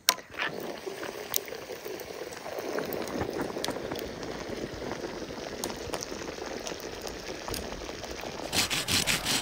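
Water heats in a pot on a camping stove in the northern Swedish wilderness, giving a steady close hiss with soft bubbling throughout and no talking.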